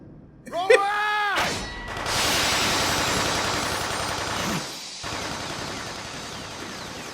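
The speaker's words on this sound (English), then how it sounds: "All these bullets miss, and they're firing down a straight corridor." Gunfire in a Fullmetal Alchemist Brotherhood anime scene inside a straight corridor, a dense sustained burst of rapid shots with ringing mechanical tones, loud and close, after a short wavering cry.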